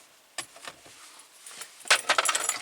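Car keys for a 2006 Saab 9-3 Turbo wagon jingle and clink as they are handled, scattered light metallic taps building to a denser, brighter rattle near the end, close and moderately loud with no talking.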